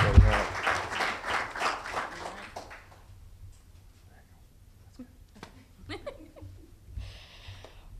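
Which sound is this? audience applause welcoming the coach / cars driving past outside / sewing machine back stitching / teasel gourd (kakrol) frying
audience applause welcoming the coach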